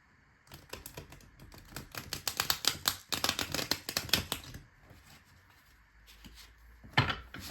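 Tarot cards are riffled and shuffled in rapid clattering bursts, with a pause, then a final brisk snap of shuffling close by.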